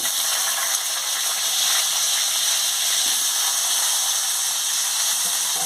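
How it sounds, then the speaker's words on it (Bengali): Potatoes frying in hot oil give a continuous, dense sizzling hiss, close and steady throughout with no voices. "আলুটা দিয়ে ভালো করে ভেজে নিচ্ছি।"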